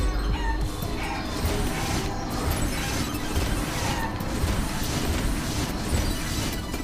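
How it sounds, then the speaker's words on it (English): Clucking chicken in the video game Guacamelee, a busy, dense burst of fowl noises over constant game sound with no talk. "Chicken."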